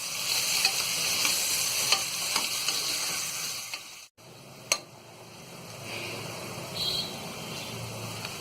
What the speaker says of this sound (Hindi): प्याज के लिए हम हल्का गुलाबी होने तक तलेंगे।